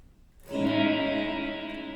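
A single guitar chord rings out after a moment of quiet, washed in spacious reverb from a Strymon blueSky pedal set to maximum high end, lingering and slowly fading.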